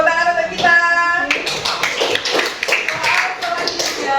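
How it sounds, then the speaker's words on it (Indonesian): A fifth-grade class bursts into a round of hand clapping after a short stretch of voiced, harmonic sound. The dense, crackling applause from many children carries on steadily to the end. "Oke, tepuk tangan untuk kita."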